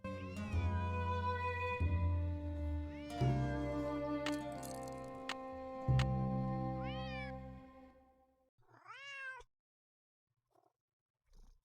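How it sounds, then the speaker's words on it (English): A house cat in the Nancy Drew: Secret of the Old Clock video game gives drawn-out, rising meows, the first ones over a steady musical background and the last one nearly alone. "Otherwise, he'll just keep meowing."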